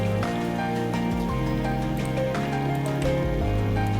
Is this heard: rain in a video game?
yes